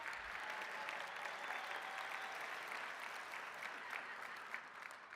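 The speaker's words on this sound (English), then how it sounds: "we could clap for Dan" A veterans' convention audience at a business session gives sustained applause, an even, dense wash of many hands clapping in a large hall, moderately distant and steady throughout.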